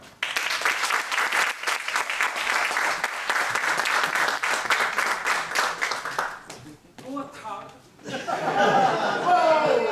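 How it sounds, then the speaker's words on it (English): A conference audience applauds a speaker being introduced in Lisbon, dense clapping that runs for several seconds and then thins out, followed by a short pause and a voice speaking at the end. "a warm applause for Max Nakano"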